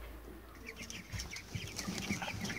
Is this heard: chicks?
yes